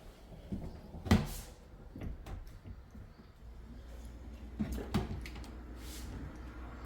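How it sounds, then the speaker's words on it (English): Soft-close kitchen drawers with dovetail joints sliding shut in a house, a few muffled thuds and soft bumps spread over several seconds against a quiet room. "The drawers even have the dovetail joints, soft close."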